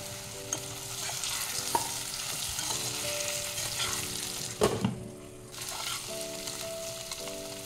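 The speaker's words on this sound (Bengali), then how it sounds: "এই সময় আমি কচুটাও দিয়ে দেবো, একটু ভেজে নেব কচুটা।" Pieces of taro root and potato fry in oil in a pan, giving a soft, steady sizzle with scraping stir strokes and one sharper clatter partway through, no voices.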